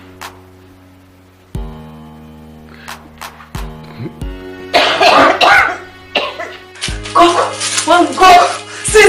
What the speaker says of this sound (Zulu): Khwehlela mama.